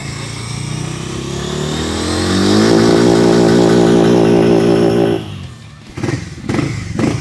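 A Harley-Davidson X440 motorcycle engine idles after being submerged, a steady rumbling idle whose pitch climbs and holds, then cuts off abruptly before a few uneven bursts of revving.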